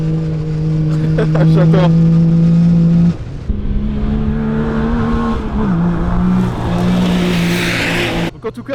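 A Yamaha YXZ 1000R buggy drives and revs hard, its engine droning loud and close, pitch climbing and dropping through shifts, with tire noise and a brief spoken word over it.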